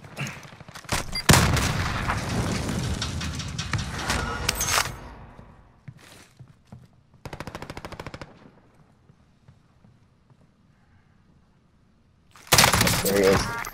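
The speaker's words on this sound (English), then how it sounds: "There's a frag in." Frag grenade blast in a first-person shooter game amid heavy gunfire, a sharp loud burst followed by rattling shots, crackle and a later close boom, with no talk.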